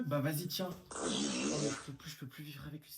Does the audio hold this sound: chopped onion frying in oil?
no